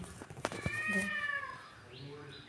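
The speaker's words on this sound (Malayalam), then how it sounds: "ഒരു പൂച്ച" A single cat meow rises and falls, fairly soft and nearby, after a couple of sharp clicks, with a little background noise.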